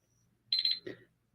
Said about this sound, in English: And the alarm's about to go off.